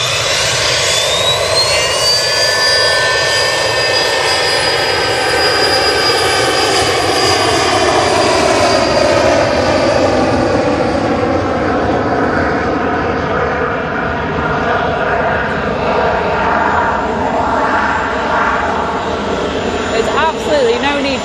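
A small aircraft roars past at Manchester Airport, loud and close, its engine pitch sweeping downward as it goes by, with voices talking over the noise throughout.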